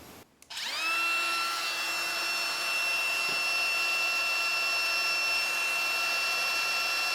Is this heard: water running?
no